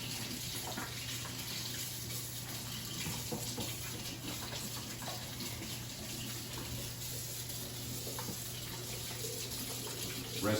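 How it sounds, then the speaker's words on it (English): Tap water runs steadily into a kitchen sink, splashing over electric mixer blades being rinsed of sweet potato strings, a continuous close hiss with no talk. "Go to my sink once again. I'm gonna rinse this off."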